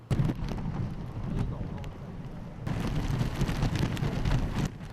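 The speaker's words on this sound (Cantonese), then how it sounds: "受尤特嘅外圍雨帶影響，雨勢間中頗大" Heavy rain from the outer rainbands of Typhoon Utor pours down over Hong Kong's Victoria Harbour, a dense, steady roaring hiss that swells louder partway through and fills the whole stretch without a break.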